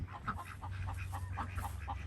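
Ducks quack in a garden food forest beside a large hibiscus, a series of short, faint calls repeating over a low steady background hum.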